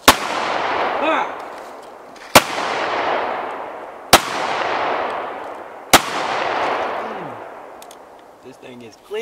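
A .45 caliber pistol fired outdoors, four loud, sharp shots spaced about two seconds apart, each followed by a long echoing decay, with brief voices between shots.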